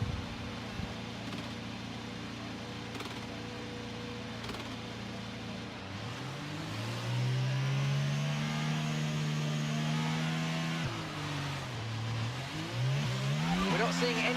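F1 race car engines in the F1 22 game on a formation lap: a steady idling drone that rises into revving, with pitch sweeps up and down as throttle varies, loud and continuous.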